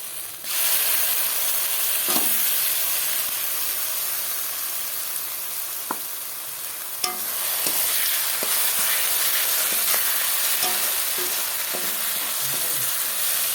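Onions fry in oil in a karai pan, a steady loud sizzle and hiss throughout with occasional small crackles and stirring clicks.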